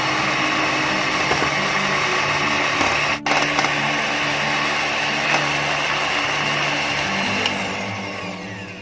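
Electric hand mixer whirring steadily as it whips cream, a continuous motor drone close up with one brief dropout midway and a slight fade near the end.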